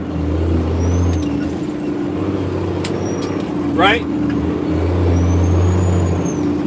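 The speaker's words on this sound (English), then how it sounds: "So I'm just stabbing my brakes." A truck descending Monteagle, its engine droning steadily while the driver stabs the brakes, giving one brief, sharp hiss of air brakes midway. Someone talks over the engine.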